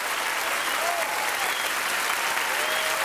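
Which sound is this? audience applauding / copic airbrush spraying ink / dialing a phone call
audience applauding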